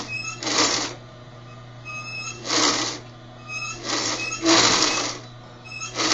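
A sewing machine stitches in several short bursts of rapid whirring, separated by pauses, with a steady low hum running underneath.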